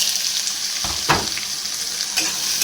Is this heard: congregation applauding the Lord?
no